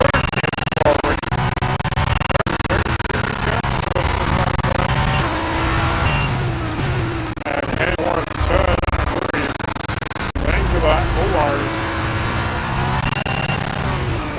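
An F1 car races in the video game F1 23 during the final lap of an F2 race, its engine droning and revving continuously with gear changes, while someone commentates over it throughout.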